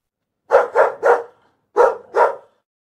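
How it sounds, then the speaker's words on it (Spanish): A dog named Teddy barks in a kitchen, a burst of three sharp barks followed by a pause and two more, close and clear with no one talking. "Entonces escuchó a Teddy ladrar en la cocina."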